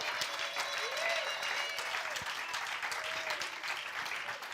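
A church congregation applauds, a dense sustained clapping crowd with scattered cheers and whistles, fairly close and continuous throughout.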